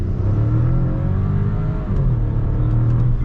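A VW Virtus 1.0 TSI with a remapped ECU, downpipe and removed catalytic converter accelerates, its engine note a loud, close, steady drone with rising tones under a rumbling exhaust.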